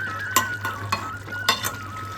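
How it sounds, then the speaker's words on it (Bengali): A spoon scrapes and clinks against a pan while thick, spicy duck egg gravy is stirred, with a few distinct scraping strokes over a low, steady sizzle from the stove. "এদিকে গ্রেভিটা আমাদের ঘন হয়ে গেছে, হালকা হাতে নাড়াচাড়া করে বেশ কিছু চেরা কাঁচা লঙ্কা দিয়ে দিই।"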